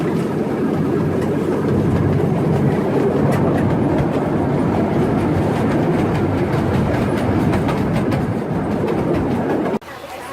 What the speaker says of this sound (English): We get on the train.